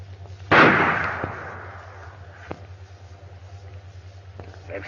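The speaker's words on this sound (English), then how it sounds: "They've stopped firing." A gunshot in a 1937 western shootout cracks sharply and loud, its echo decaying over a low steady hum, followed by a couple of fainter distant shots.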